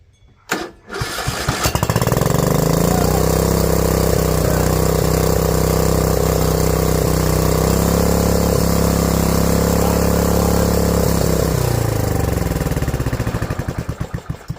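A Troy-Bilt TB30R string trimmer engine, recovered from the trash, runs close and loud after a brief sputtering start, holding a steady buzzing drone with little change in speed before dropping off near the end.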